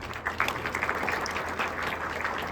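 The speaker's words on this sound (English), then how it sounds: "let us extend a warm round of applause to welcome Mr." Indoor audience at a clean energy expert session applauding to welcome the chief guest, a dense, steady wash of clapping heard alone and moderately close throughout.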